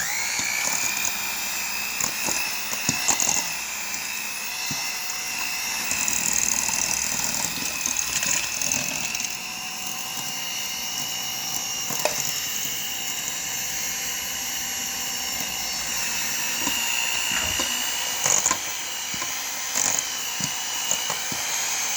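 An electric mixer whirs continuously through cake batter with vanilla, a steady high motor drone with small knocks and bumps against the bowl, close and fairly loud throughout.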